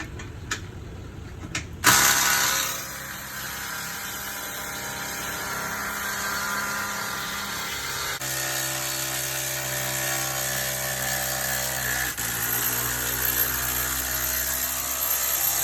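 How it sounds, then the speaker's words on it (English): A power drill lowering trailer jacks: a sudden loud mechanical start, then a sustained whirring motor hum that shifts pitch a couple of times, steady and close, with no talking. "As you can hear, Josh gets his drill to get the jacks down"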